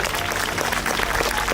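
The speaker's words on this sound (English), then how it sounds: "Let's give her a round of applause." A public event audience breaks into a dense burst of applause, a continuous crowd clapping that stays full and busy throughout.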